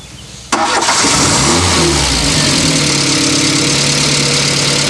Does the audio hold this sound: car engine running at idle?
yes